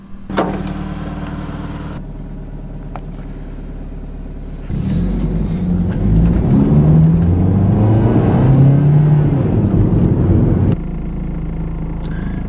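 A high-mileage car's engine idles close by, then revs up into a louder, rising roar held for several seconds before dropping back to a steady idle, with a thin whine over it and no talk.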